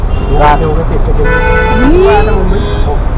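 Busy Mumbai street traffic with an engine drone and a few short car horn toots rising above it, fairly loud and close, with a voice partly mixed in.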